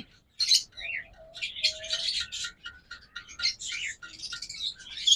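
Breeding pair of pet birds kept for sale, chirping and tweeting in quick bright bursts with a few squawky calls, near and fairly clear over a quiet room.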